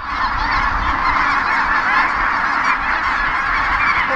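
A dense flock of geese honks continuously and loudly across a pasture on a cattle ranch in Harney County, Oregon, along the Pacific Flyway, with many overlapping calls forming a steady chorus and no talking.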